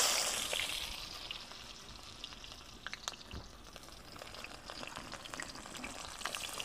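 Chopped onions go into hot oil with mustard seeds for a tomato egg bajji, a soft, continuous frying hiss with scattered crackles and pops, close and steady.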